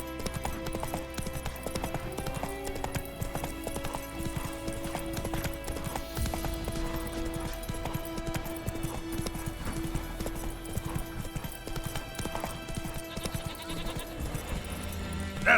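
Roach the horse galloping in The Witcher 3, rapid rhythmic clip-clop of hooves running continuously at a moderate level, with faint ambient background and no talking.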